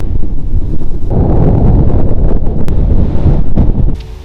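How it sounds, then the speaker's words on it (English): Strong wind in Geraldton buffets the microphone with a loud, continuous roar that surges and eases, with no voices present. "in all of Geraldton, it is very, very windy"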